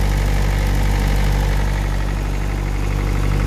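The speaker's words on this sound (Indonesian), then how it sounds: "Mesin mobil gitu." A car-type engine idles steadily and loudly up close, a continuous low hum with a constant vibration and no break across the whole span, with no talk over it.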